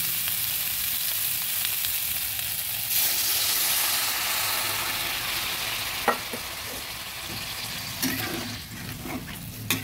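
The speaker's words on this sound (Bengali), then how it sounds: "নেড়ে জল দিয়ে দিচ্ছি।" A thin katla fish curry with raw green banana sizzles and bubbles in a pan as water is added and it is stirred, with a few sharp scrapes and clinks of the spoon over the steady hiss, and no talking.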